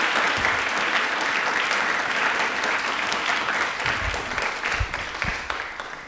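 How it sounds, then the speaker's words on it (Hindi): A studio audience at an Indian Railway quiz show gives strong, continuous applause, a thick crowd of clapping hands with a few louder close claps, tapering slightly toward the end. "प्लीज एक बार तालियां जोरदार हो जाए शशि किरण सर के"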